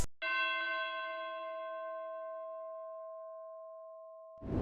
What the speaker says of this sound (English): was this bell from Contact, Tubular Bell from the orchestra